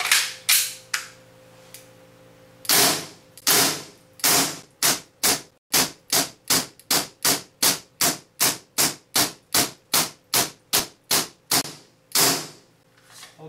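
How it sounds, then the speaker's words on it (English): Air gun fitted with an ESD cylinder valve fires a rapid string of sharp, loud, evenly spaced shots after a few opening bursts, snapping off at a steady clip like a fast typewriter. "Okay, 22 rounds fired."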